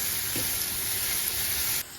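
Onions fry gently in oil with a pinch of turmeric powder, giving a close, continuous sizzle and hiss with a faint stir near the start. The sound drops slightly just before the end.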